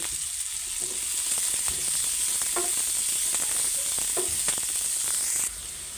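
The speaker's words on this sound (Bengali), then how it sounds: "এখন এই যে শাক বাগার দিতেছি চুলাই" Greens are tempered in a pan on a stove, sizzling steadily and close with scattered clicks and scrapes of stirring, and the hiss drops away at the very end.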